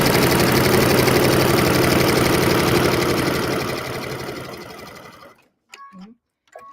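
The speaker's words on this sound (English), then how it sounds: "And sew all across the bottom." A sewing machine stitches across the bottom of a fabric lining in a loud, rapid, steady mechanical chatter that slows and stops, followed by a few brief handling clicks.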